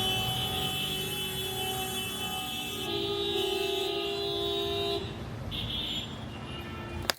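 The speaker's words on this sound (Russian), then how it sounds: "Главная деталь для местных водителей – это клаксон." Car horns honk in Cairo street traffic, a sustained blaring tone with overlapping horns that shift pitch partway through, loud and close over a steady roadway rumble.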